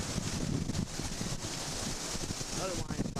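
Wind from a 1998 windstorm in Elkhart, Indiana, a steady broadband roar buffeting the microphone, with a faint voice briefly audible beneath it.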